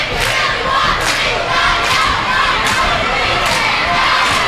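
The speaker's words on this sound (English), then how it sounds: "The crowd for Kentwood not going down easy. They're cheering on their cheerleaders as well," High school basketball crowd for Kentwood cheering and shouting in a gym, a loud, dense roar of many voices with rhythmic bursts of chanting pulsing roughly every second.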